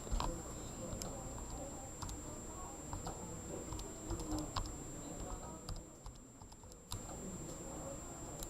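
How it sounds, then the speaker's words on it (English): Keys tapped on a calculator while solving a polar-area substitution problem in a classroom, with quick irregular clicks scattered through the clip over room noise and occasional voices. "let's go ahead and type it in"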